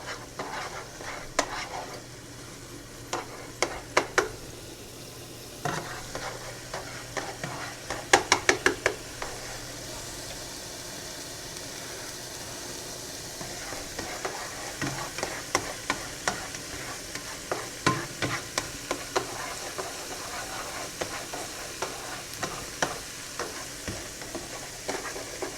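Garlic butter sauce for creamy steak bites with tortellini cooks down in a pan with a steady, close sizzle. Occasional clicks and scrapes of a utensil against the pan cut through, and no one talks.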